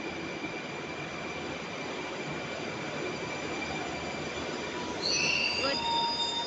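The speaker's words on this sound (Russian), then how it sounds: "Мы на станции метро Коврово." A metro train in a Moscow metro station on the Solntsevskaya line, rumbling steadily with a constant hum and a sharp wheel squeal rising near the end, moderately loud and close, with no talking.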